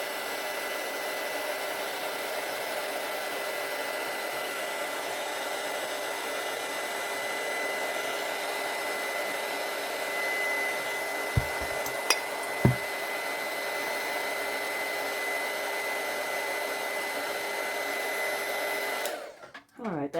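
A heat gun blows steadily to warm adhesive on a mug, a constant close-up hiss-roar lasting the whole stretch with a few faint knocks near the middle before it cuts off at the end.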